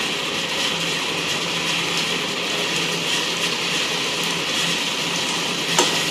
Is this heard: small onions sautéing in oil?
yes